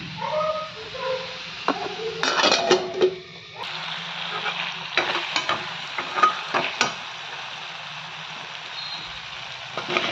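Fenugreek leaves and onion frying in a pan while being stirred, giving a steady sizzle broken by irregular scraping and clattering strokes, close and moderately loud, with no talking.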